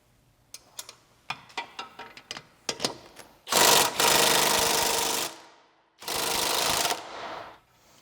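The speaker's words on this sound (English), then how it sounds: "Now I'll remove the discharge baffle with the 1/2-inch wrench." A 1/2-inch wrench removes the discharge baffle from a lawn mower: a run of sharp, irregular clicks comes first, then two loud, sustained mechanical bursts close by, the first nearly two seconds long.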